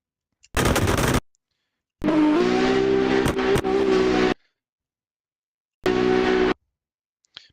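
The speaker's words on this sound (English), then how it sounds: "the rev limiter is a bit too loud" A modded Audi A4 B5 Super Touring race car engine in a video game, bouncing off its rev limiter in three loud bursts of buzzing, stuttering revs separated by silence.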